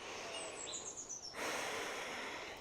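A long breath drawn in during a yoga lunge pose, a soft airy inhale followed by a louder sustained breathy rush, close and alone with a faint chirp early on.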